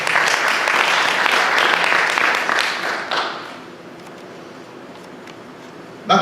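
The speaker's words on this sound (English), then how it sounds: "Give a clap of praise unto the Lord." Church congregation applauding in praise to the Lord during a sermon, a dense, loud wash of clapping for about three seconds before thinning into scattered claps and low room murmur.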